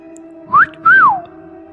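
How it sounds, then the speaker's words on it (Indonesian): Street thugs whistle at a girl passing by: two loud, close wolf whistles, a short rising one and then a longer rise-and-fall call, standing out over a faint steady hum. "berandal tadi pun bersiul,"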